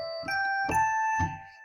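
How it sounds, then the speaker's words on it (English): A pentatonic scale played on a GarageBand software keyboard: three soft, bell-like tones struck one after another at an even pace, each ringing on and overlapping, heard clearly with no talking. "you can use the A pentatonic scale, which sounds like this"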